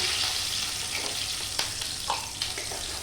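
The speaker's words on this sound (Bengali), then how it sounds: "গোলমরিচ আর কাঁচা লঙ্কা ফোড়ন দিয়ে এবার মাশরুমটা ভাজবো" Mushrooms fry with green chili and black pepper in a pan. A soft continuous sizzle carries a few sharp clicks and utensil taps, and no one speaks.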